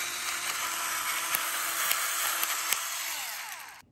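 An AmuseWit battery-powered electric pepper grinder whirs continuously as it grinds pepper, a close buzzing motor with faint crackling of peppercorns, stopping abruptly near the end.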